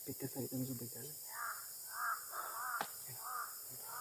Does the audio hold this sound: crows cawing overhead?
yes